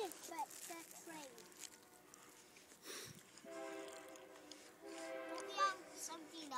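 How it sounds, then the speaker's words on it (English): A train passes in the distance during a lunch stop on a hike, its horn sounding in faint, drawn-out tonal blasts behind outdoor noise while people chat nearby. "There's the train."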